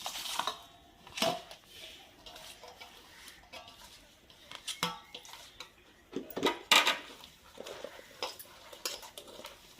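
A spoon clinks and scrapes against a bowl as mango pickle is mixed with spices. Bursts of sharp metallic tapping and stirring are spread irregularly between quieter pauses, and someone speaks faintly.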